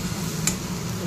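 One short spatula scrape while stirring fried red amaranth greens with lentil dumplings in a pan, over a low steady sizzle.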